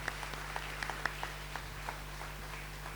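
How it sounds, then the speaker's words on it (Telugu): Sparse, faint applause from an audience at a church family-day sermon in Yanam, scattered single claps rather than a full ovation, quiet and somewhat distant. "ఇప్పుడు చప్పట్లు కొట్టవద్దు అని చెప్పకుండానే కొట్టినటువంటి"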